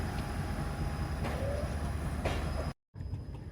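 Train pulling out of Karachi Cantt railway station, a steady rumbling roll with faint squeals and clanks, continuous and fairly close, briefly cut off near the end before resuming.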